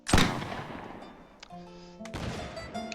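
Musket fire in a Napoleonic-era battle game, one loud close report at the start, then a fainter shot and crackling smoky rumble with distant tonal battlefield sounds, and another crack near the end.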